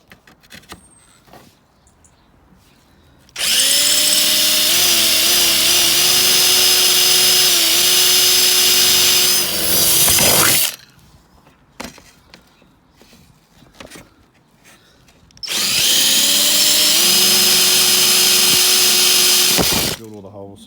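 A power drill bores holes to fit a TRC splitter to a Corsa VXR front bumper. Two long, loud bursts of steady motor whine ring out nearby, separated by quieter gaps with small knocks and handling noises.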